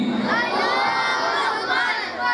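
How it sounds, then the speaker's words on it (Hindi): Crowd of parents and guests at a school annual day loudly chanting the Islamic takbir together to cheer on the children, a dense sustained roar of many voices filling the hall. "सभी से गुजारिश है कि बच्चों की हौसला अफजाई के लिए एक बार बुलंद आवाज़ से तकबीर पढ़िए"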